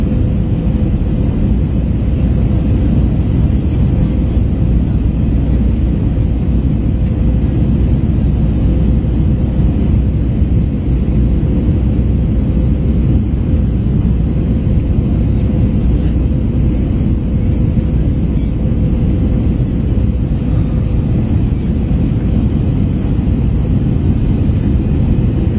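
Steady broadband cabin roar inside an American Airlines Airbus A321T airliner landing at Los Angeles, with a constant low engine hum and a faint tone, loud and unbroken throughout.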